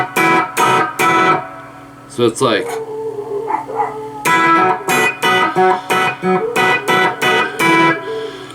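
Electric guitar plays a riff in short, punchy chord stabs with gaps and a sliding bend in the middle, loud and close, with a brief spoken phrase over it.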